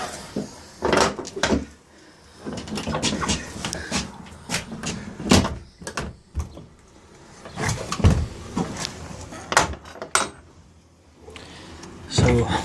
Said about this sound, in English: So this door opens.